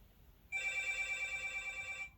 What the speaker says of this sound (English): now they're ringing my door intercom to come and provoke my spirit some more